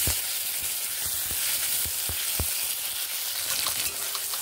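Tomatoes and spices sizzling in a hot pan for a vegetarian broccoli dish, a steady close fry with soft scraping taps from a stirring spoon scattered through, no voices.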